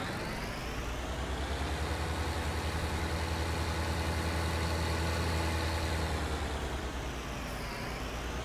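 A vehicle engine runs at a steady idle in Farming Simulator 19, a constant low rumble holding throughout with no other sounds.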